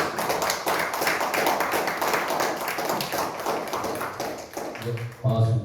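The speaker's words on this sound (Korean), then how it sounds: "박수 부탁드리겠습니다." An audience at a sustainable development conference in Gimhae gives a round of rhythmic, moderately loud clapping as a speaker is welcomed, and a voice begins talking as the clapping ends.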